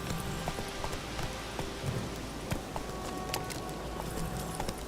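A horse gallops steadily in The Witcher, its hooves clip-clopping in a quick continuous rhythm at moderate distance, alone without talk.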